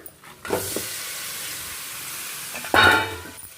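Chicken pieces tossed into frying onions in a pan release a sudden burst of sizzling, with a steady hiss between two louder surges as the mix is stirred, close and with no voices.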